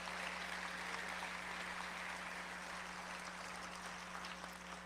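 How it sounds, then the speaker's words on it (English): Audience at a Detroit Economic Club luncheon applauding to welcome students, a steady wash of clapping heard from a distance and fairly faint, over a constant electrical hum. "How about one big round of applause to thank their sponsors and welcome the students."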